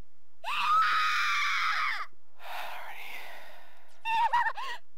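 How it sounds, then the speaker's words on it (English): A character in the horror video game Corpse Party screams in two long, loud, strained bursts, then gives a shorter wavering cry near the end. "Yeah, you can scream."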